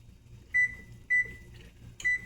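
A microwave oven being set to high gives three short, clear electronic beeps, spaced about half a second apart, over a low steady hum in a quiet kitchen.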